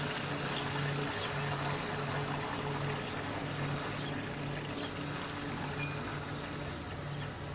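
Pool water drains back through the plumbing after the pump is shut off, a steady rushing, pouring wash that holds at an even level throughout with no voices.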